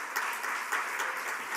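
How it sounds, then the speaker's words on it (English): Brief steady applause from the audience at the Rancho Mirage candidates forum, an even patter of many hands lasting under two seconds with no break. "Let's give everyone a big round of applause."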